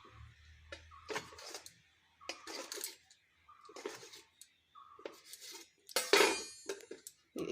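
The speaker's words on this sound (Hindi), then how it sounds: "अब इसको छोटा छोटा टुकड़ा में काट लीजिए।" A knife cutting rolled nimki dough into small pieces on a board, a series of soft separate chops and taps with quiet gaps between them.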